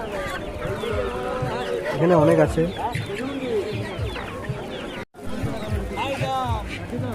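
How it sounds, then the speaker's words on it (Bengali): Chickens, including Sonali and local desi hens, cluck and squawk continuously at the Krishnanagar market while people talk loudly over them, close by. "এগুলো হচ্ছে পিওর দেশি মুরগি সাড়ে চারশো টাকা কিলো"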